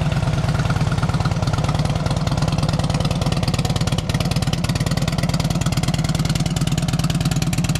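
A 2006 Harley-Davidson Road King Custom with an aftermarket exhaust idles steadily up close, its loud, rhythmic low-pitched engine pulses continuing without pause and no voices present.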